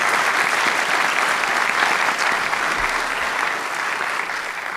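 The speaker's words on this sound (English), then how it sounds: "Round of applause for a difficult section there." Steady, dense applause from a debate audience for the two debaters, sustained at a loud, even level throughout with no talking.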